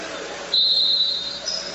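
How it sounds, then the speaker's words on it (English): A referee's whistle at a college basketball game sounds one sustained shrill blast, then a shorter second toot, over the low murmur of the arena crowd. "another whistle"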